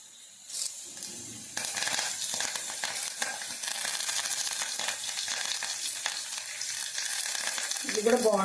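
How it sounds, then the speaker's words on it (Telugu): Cumin, dried red chillies and curry leaves crackling in hot oil for a tempering, a sudden loud sizzle that starts after a brief pause and keeps hissing steadily up close, with a faint clink near the end. "తర్వాత ఏమో కరివేపాకు కూడా వేస్తాను ఇప్పుడు"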